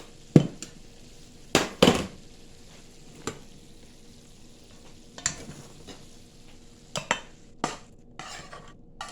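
Hot cooked ground meat is dumped into a stainless steel bowl, heard as a series of sharp metallic scrapes and clanks spaced across the clip, close and fairly loud against a quiet background with no talk.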